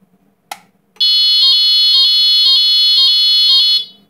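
An Aviss brand fire siren starts after a sharp click and blares very loudly and steadily for about three seconds. Its harsh electronic tone pulses in a regular rapid pattern, then it cuts off abruptly.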